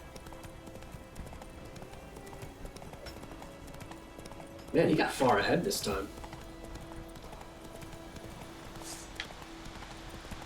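Hooves clip-clop in a quick burst as a horse runs in The Witcher 3, loud for about a second against quiet game ambience, while someone comments over the gameplay.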